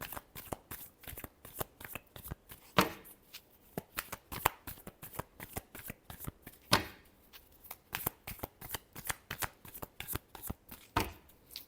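Tarot cards are shuffled by hand in a rapid, steady run of crisp riffling slaps, each burst short and close, with a few heavier thuds mixed in and no voices.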